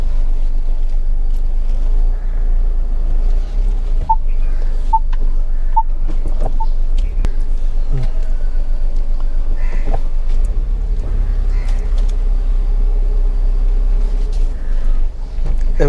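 A car reverses slowly into a garage, its low engine rumble steady and close, with faint clicks and small knocks over the hum.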